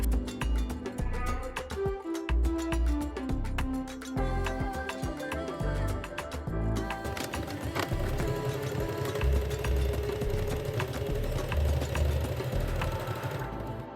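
A sewing machine runs steadily, stitching fabric pant crotch seams, with a dense mechanical whir and rapid needle chatter throughout, loud and close, shifting pace slightly partway through.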